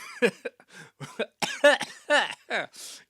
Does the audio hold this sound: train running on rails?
no